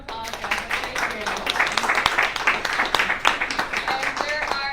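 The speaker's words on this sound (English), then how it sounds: "Can we give a round of applause, guys?" An audience at a veterans' panel on women in service gives a round of applause, a dense patter of many hands clapping close by, with voices talking over and through the clapping.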